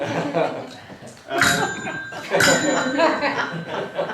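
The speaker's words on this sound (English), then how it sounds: "He can only communicate by using a small bell" A small hand bell rings in two bright, sustained strikes about a second apart, its tone lingering over a noisy room where people talk and chuckle at a family birthday gathering.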